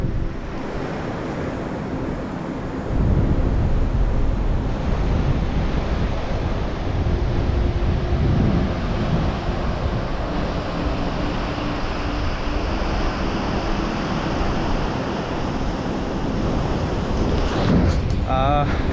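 Surf rolling in on Kashid beach on the Konkan coast, a steady broadband wash of waves mixed with wind buffeting the microphone, continuous and fairly loud throughout with no distinct breaks.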